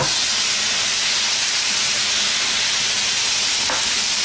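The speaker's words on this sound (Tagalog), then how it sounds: "Igisa na natin yung ating beef" Beef sautéing in a skillet with garlic and onion for beef caldereta, a loud, continuous hiss of frying that holds steady throughout, with a faint clink near the end.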